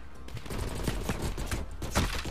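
Rapid gunfire from a recoilless weapon in Black Ops Cold War, a burst of close, loud shots in quick irregular succession with a few heavier cracks near the end.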